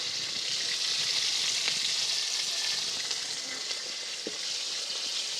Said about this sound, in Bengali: এখন আমি মাছ ভাজছি